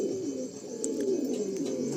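Pigeons coo steadily in a loft of Andhra breed birds, low rolling calls overlapping close by, with a few faint higher chirps over the top and no talking.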